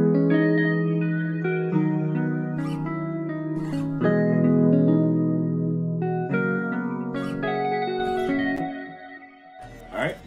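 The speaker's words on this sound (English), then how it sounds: "when you layer the guitars and the e-pianos together, it sounds like this" Layered guitars and electric pianos from an afrobeat production play sustained chords and melodic lines together, smooth and continuous, with a brief unrelated sound entering right at the end.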